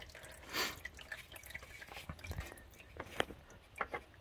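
Engine oil from a 2007 Impala 3.9L drips and splatters into a drain pan during an oil change, a faint, close, irregular patter of wet drops and small splashes.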